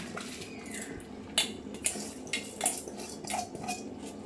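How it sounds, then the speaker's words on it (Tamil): A spoon scrapes and clinks against a pot while soaked rice is stirred into boiling mutton biryani. Several sharp metallic knocks stand out over a soft bubbling background, with no talking. "ஆட் பண்ணி நல்லா கிண்டி விட்டுருங்க இதை இப்படி நல்லா கிண்டி வச்சுருங்க"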